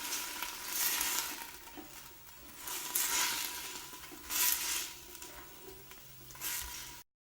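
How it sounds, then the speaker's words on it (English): Onions and Swiss chard sizzle and fry in a pan as chicken stock is added, a steady close crackle that swells in several louder bursts. "I'm just going to add a little bit to the pan because the onions and the Swiss chard are heating up just a little bit"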